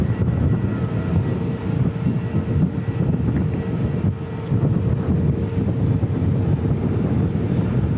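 A C-17A military transport aircraft arriving at Christchurch Airport, a loud, steady engine roar with wind buffeting the microphone, sustained throughout without voices.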